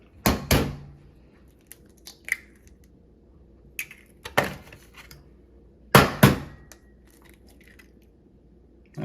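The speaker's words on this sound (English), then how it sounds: "we're just gonna crack them into a bowl here." Large eggs are cracked into a bowl, each heard as a few sharp, close taps followed by brief crunches, in three clusters spaced a couple of seconds apart, with quiet handling between.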